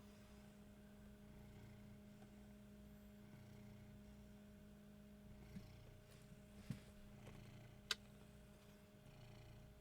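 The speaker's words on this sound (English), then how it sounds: "Not sure if you guys can hear him. He's purring pretty loud." A cat named Vinny purrs in a low, steady rumble, faint and continuous beneath a constant electrical hum, with a few small clicks late on.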